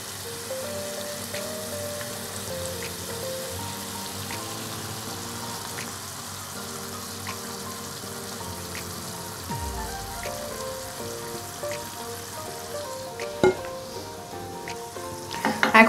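Beef brain frying in spice masala over low heat, a steady crackling sizzle throughout with occasional sharper pops and a burst of stirring clatter near the end.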